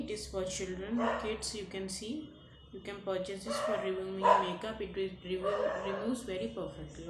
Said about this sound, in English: sorry for the dog sounds